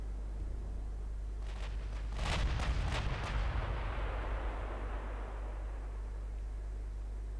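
Battleship naval gunfire in the Ultimate Admiral Dreadnoughts video game: a quick cluster of heavy booming artillery blasts that rumble and fade into a steady low hum, with no voices.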